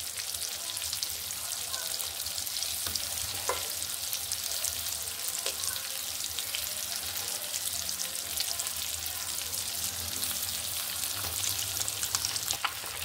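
An egg frying in a pan, giving a steady close sizzle and crackle throughout with occasional small pops and faint voices in the background.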